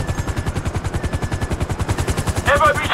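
Rapid machine-gun fire rattles in steady bursts during a rooftop raid in Grand Theft Auto 5, loud and continuous, with a helicopter's rotor chop beneath it and a brief voice near the end.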